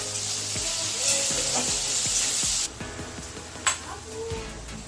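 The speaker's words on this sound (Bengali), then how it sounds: "দেখুন পেঁয়াজটা অর্ধেক ভাজা হয়ে এসছে।" Sliced onion sizzles in hot oil in a home kitchen pan, a steady broadband frying hiss with scattered spoon scrapes and taps as it is stirred, loud and close, briefly quieter partway through.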